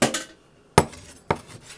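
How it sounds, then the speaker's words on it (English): A knife chops a hard-boiled egg on a cutting board for a remoulade, giving three sharp, close knocks spaced apart, the first a quick double tap, with no voices. "what I'm doing now is chopping up a hard-boiled egg"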